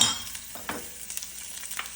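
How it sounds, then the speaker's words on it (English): Garlic and ginger are stirred into hot oil in a pan for an Indian-style vegan okra stew. A soft, steady sizzle plays close by, broken by brief scraping stirs. "we are going to add the garlic and ginger first"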